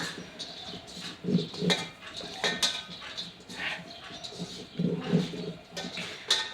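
Grated carrot and beetroot being tossed together in a pan, with irregular soft scrapes and light metallic clinks from a spoon, fairly quiet and close, with no talking.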